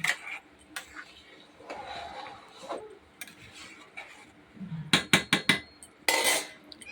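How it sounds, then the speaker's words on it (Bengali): A metal spoon stirs khichuri in a cooking pot, giving scattered scrapes and a quick run of sharp clinks and knocks against the pot's sides, with quieter kitchen sounds between. "নাড়াচাড়া করে দিই।"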